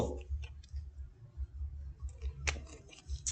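Soft computer mouse clicks tap out in a few quick single and double presses over a low background hum, close and fairly quiet.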